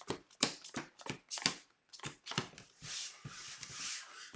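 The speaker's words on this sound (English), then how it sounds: "I'm going to shuffle the encounter deck" A card game's encounter deck being shuffled by hand: a run of sharp riffling bursts in quick succession, then a longer continuous bridging rustle of cards, close and clear with no talking.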